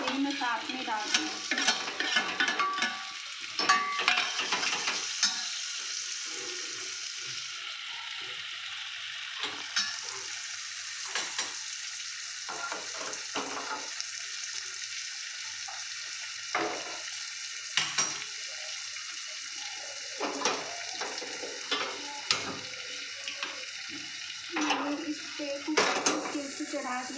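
Spatula scraping and clattering in a pan while green chillies and onion are fried into a bharta, a soft sizzle underneath and repeated close metallic knocks at an uneven rhythm.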